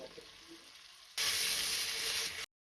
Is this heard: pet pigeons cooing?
no